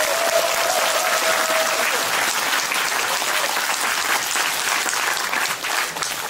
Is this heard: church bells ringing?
no